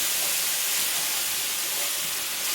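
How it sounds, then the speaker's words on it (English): Red wine hits a hot pan of browned mushrooms and celery, giving a loud, steady steam hiss that holds evenly throughout. "we're going to deglaze this with a little bit of red wine"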